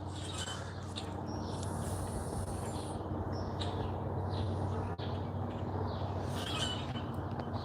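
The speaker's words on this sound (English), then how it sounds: "They're still chirping, still flying around." Birds chirp during a solar eclipse outdoors, small scattered calls rising over a steady broadband wash of ambient noise and low hum, fairly faint and distant throughout.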